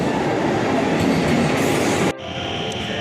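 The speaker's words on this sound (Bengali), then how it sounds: "ও যে ট্রেন আসছে।" A train pulls into a foggy station with a loud, steady rumble and rolling wheel noise that cuts off abruptly about two-thirds through, leaving a softer, lower hum.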